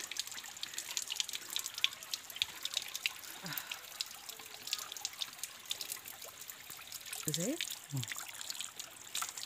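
Cold, clear water trickles and splashes at a waterfall, a faint steady rush with soft drips, while a few brief voices come through in the background.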